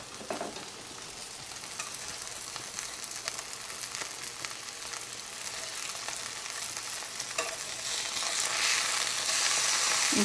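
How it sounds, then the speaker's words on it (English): Burgers sizzle and fry in a hot skillet, a steady crackling hiss that swells slightly louder toward the end, with no talking over it. "it's time for me to turn my burgers over here."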